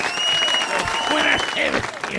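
Comedy club audience at Laugh Out Lounge applauding a guest, a dense, loud wash of clapping that fills the whole stretch while voices call out over it.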